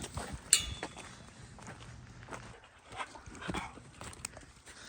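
Dog trotting around a dog park in Montana, light footsteps and soft panting with a few faint whimpers, close and fairly quiet, without talk.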